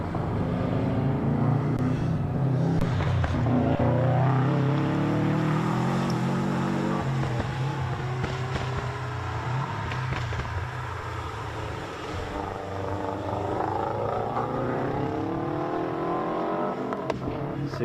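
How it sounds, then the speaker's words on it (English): Subaru Impreza race car climbing a hill at the Mt Lofty stage, engine revving hard with popping and spluttering as it goes, steady and loud throughout, other cars in the group nearby. "Subaru Impreza at the tail of that little group there. Didn't that sound good? Popping and spluttering its way up the hill."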